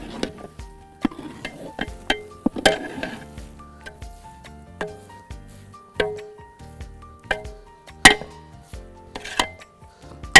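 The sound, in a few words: stirring buffalo head biryani rice in a pot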